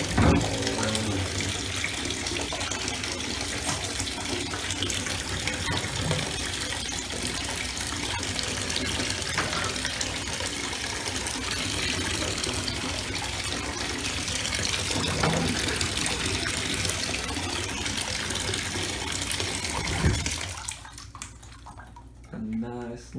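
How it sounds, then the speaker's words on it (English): Tap water runs steadily into a bath where a trumpet soaks, a continuous close splashing hiss that stops abruptly near the end, with talking over it. "Let it sit under the water. It's looking about good to me. Just submerge it all"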